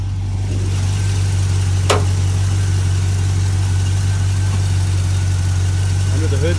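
A 1976 International Harvester Scout II's factory 345 V8 engine idles with a deep, steady rumble close by, a lumpy low throb and a brief faint clatter partway through.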